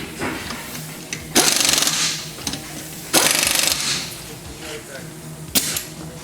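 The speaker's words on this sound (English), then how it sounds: "we'll use our 1/2 inch impact gun" A 1/2 inch impact gun rattles on the strut bolts of a 2007 Chevrolet Equinox, with two loud bursts of hammering and a brief third one, plus short clicks between them.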